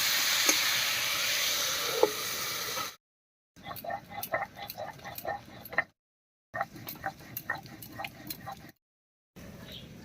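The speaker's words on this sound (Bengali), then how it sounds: "এবার একটু ঢাকা দিয়ে দিয়ে ভাজা ভাজা মতো করে নেবো" Potatoes fry in a covered pan with salt and turmeric, giving a steady sizzle for the first few seconds, then softer crackle broken by several gaps of silence and scattered light ticks.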